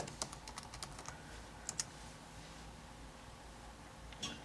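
Login email and password typed on a computer keyboard, soft scattered key clicks in short bursts, fairly quiet and close, with a pause in the middle.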